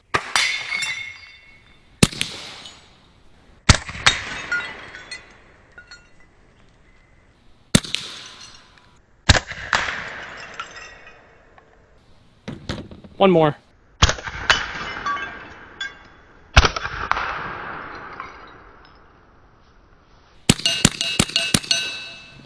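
Ceramic plates shatter one after another under shots from a Bintac T9 gun, each sharp crack followed by a bright ringing burst of breaking shards, about ten impacts spaced a second or two apart with a brief spoken remark between them.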